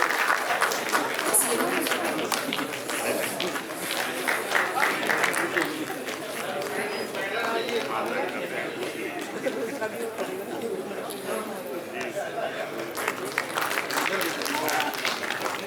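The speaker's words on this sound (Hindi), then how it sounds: "जोरदार तालियां और डॉक्टर संजीव कुमार जी के लिए" Audience applause for an honorary fellow award recipient, Dr Sanjeev Kumar, at a formal agricultural ceremony, a dense, fairly distant patter of clapping mixed with crowd chatter and a voice over a public address system.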